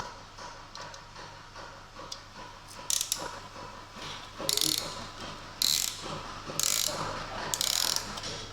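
A ratchet clicks in short bursts as it tightens a piston ring compressor on a Vauxhall Astra VXR Z20LEH engine, several crisp close-up runs of ticking pawl clicks separated by pauses, with no talking.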